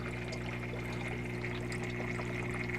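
Air gurgles and trickles through workshop heater water lines as circulating pumps run, a steady watery bubbling over a constant low mechanical hum, close and moderately quiet.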